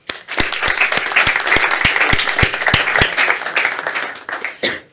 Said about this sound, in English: let's give them a big, big applause